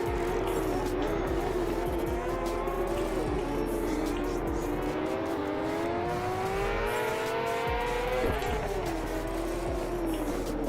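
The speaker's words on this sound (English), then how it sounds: "now we're going to do the burnout start" Kawasaki motorcycle engine in a racing video game, revving steadily and holding high for a burnout start, the pitch rising and wavering over a constant loud drone with a dip and jump near the end.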